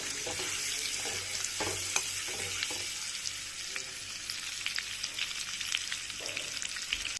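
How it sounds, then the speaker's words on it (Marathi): Eggs frying in hot oil in a kadhai with red chilli powder and salt, a steady broadband sizzle running throughout with scattered crackles and light stirring, close and moderately loud, no talking. "एक मिनिटासाठी आपण अंडे फ्राय करून घेऊ।"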